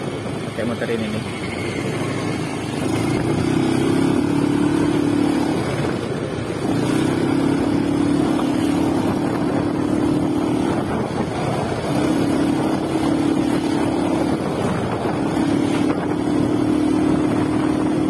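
A Yamaha Mio motorcycle fitted with a Supra carburetor is ridden, its engine a steady droning hum that rises in sustained stretches and dips briefly between them, loud and close amid wind noise, with someone talking over it.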